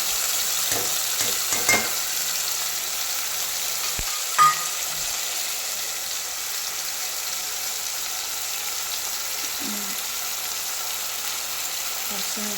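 Tomato and onion frying in oil in a pan, a steady close sizzle throughout with a few stirring scrapes and clinks early on, and faint talk in places.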